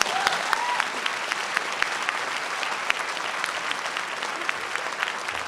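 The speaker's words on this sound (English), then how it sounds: "Let's give her a round of applause." Town hall audience gives steady, sustained applause, dense clapping from many hands filling the room at a constant level throughout, with no talk over it.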